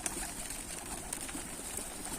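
Tumbler pigeons on a rooftop give soft, low cooing under a steady hiss of background noise, faint and continuous with no voices.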